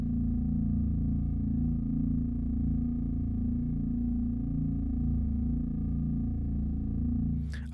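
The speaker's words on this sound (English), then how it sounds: "Now you're listening to only the reverb." A modular synthesizer feedback patch heard through its reverb output alone, a sustained droning chord of stacked steady tones with slowly shifting shimmer, constant in level, ending with a brief burst of noise.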